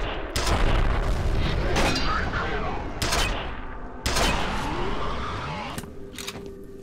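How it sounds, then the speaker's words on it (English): Gunfire in the first-person shooter F.E.A.R., with heavy, booming shots bursting repeatedly in close, loud volleys and reverberant tails filling the gaps. "The guns in this game are very satisfying."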